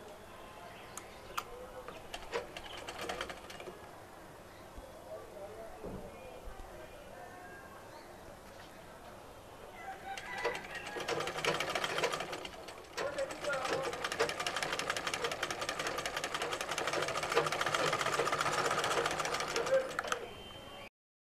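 A sewing machine stitches piping onto a garment neckline, first with a light ticking under talk, then a denser, louder whirring run in the second half.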